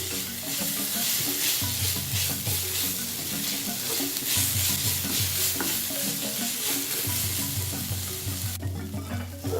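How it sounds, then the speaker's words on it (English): Ginger garlic paste sautés in a pan with a loud, continuous sizzle, while a spoon stirs and scrapes the paste in a repeating rhythm close up, with no voices. "Let's now saute the ginger garlic paste until it loses its raw smell."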